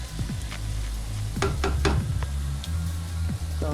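Potatoes sizzle in a pot of curry lamb stew, a steady close frying hiss with occasional stirring scrapes and clinks throughout.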